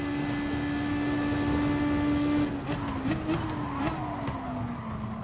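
A race car engine drones steadily in a racing video game while the car slipstreams another car down a straight. The pitch holds high and then dips and wavers through a few shifts, loud and continuous, with no talk.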